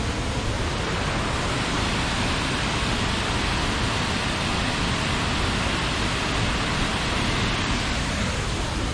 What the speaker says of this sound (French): toutes les cascades sont très très belles